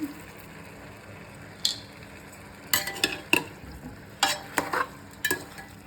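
Mutton sautéing in oil with salt for a gravy, a soft background sizzle broken by several sharp scraping stirs and clinks of a spoon against the pan, close and fairly quiet, with no voices.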